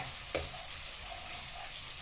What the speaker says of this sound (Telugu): ఉల్లిగడ్డ ఎర్రగా మంచిగా వేపాలి